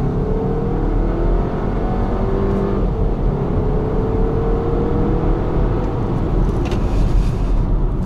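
A Skoda Kodiaq TSI 2.0 180 hp accelerates from a stop, its engine note rising steadily as gears climb. The drone is loud and continuous from inside the car.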